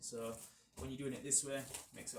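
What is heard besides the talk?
No everyday noise stands out behind the speech.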